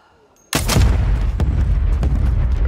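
A sniper rifle gunshot in a video game, one sudden loud boom after a quiet start, trailing into a long rumbling echo with further faint crackles.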